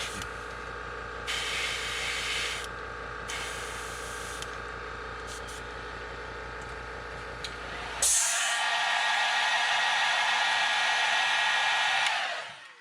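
An airbrush sprays paint onto a custom fishing lure, a steady close hiss that cuts in and out in short bursts before a louder, continuous blast of spray runs for several seconds and stops.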